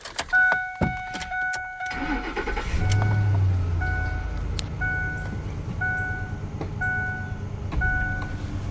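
After a few chimes and clicks, a car engine cranks and starts, settling into a steady idle while a warning chime beeps repeatedly.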